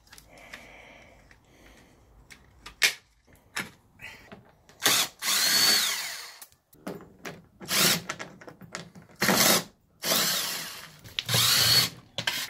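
A power driver removes Torx bolts from a Ford Mustang S197 door panel. It whirs in several short, loud bursts separated by pauses and quieter handling noises, with no talking.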